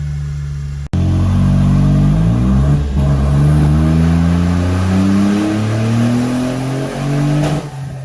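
A Smart 453 car engine running on nitrous on a dyno, revving hard with rising, climbing engine tones that sweep upward through the gears, loud and close, with no speech.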